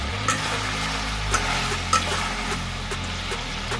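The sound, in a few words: diced tomatoes added to hot oil, chicken kadai frying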